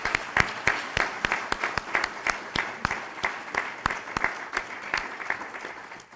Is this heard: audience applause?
yes